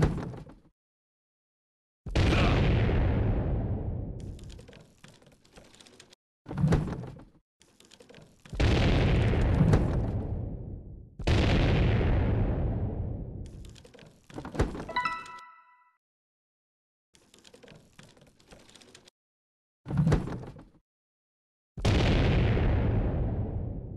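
Incendiary rounds blast one after another in the siege game Siegecraft: about eight heavy booms, each with a long rumbling tail, separated by short silences.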